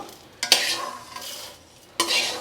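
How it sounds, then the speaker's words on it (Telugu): Urad dal is stirred while dry-roasting in a pan. A spoon scrapes the pan in two distinct close strokes, each with a dry rattling swish of lentils that trails off, and no one talks. "మినప్పప్పు వేసుకుని వేయించుకుందామండి దోరగా"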